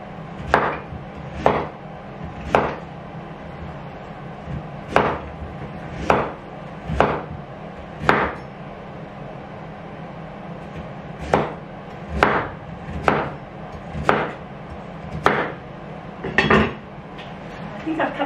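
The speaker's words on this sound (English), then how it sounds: "think I've cut those a bit big, Matthew" A knife chops on a board in sharp, separate strikes, roughly one per second with a pause midway, over quiet kitchen background.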